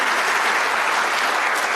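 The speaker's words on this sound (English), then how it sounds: "we'll give them a round of applause anyway." A school district gathering's audience claps for city and county partners, producing a loud, continuous roar of applause that holds steady for its short span, alone without talk.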